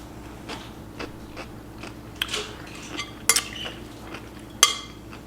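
Seasoning and dill weed being stirred together in a bowl with a utensil, giving light scattered clinks and scrapes, a few sharper taps standing out over a quiet room hum.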